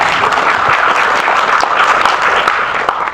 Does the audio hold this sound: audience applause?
yes